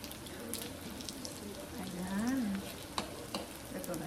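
Beef frying in a home kitchen pan, a soft steady sizzle with occasional stirring clicks, faint and continuous beneath a brief tonal voice-like sound.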